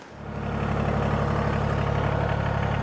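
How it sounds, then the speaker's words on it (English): A tractor engine starts up and settles into a steady, loud idle, a deep throbbing rumble that holds even after a brief rise, with no voices. "Let's get on the tractor and get down there and see how things look."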